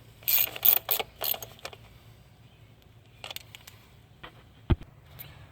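A ratchet snugging valve cover bolts on a 2008-2012 Nissan Rogue gives quick bursts of clicking, then sparser clicks and a sharp tap, close and fairly quiet against low background hum.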